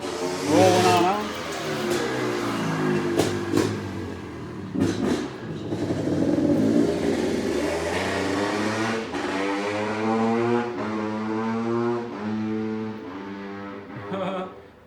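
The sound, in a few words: Honda CRF dirt bike riding past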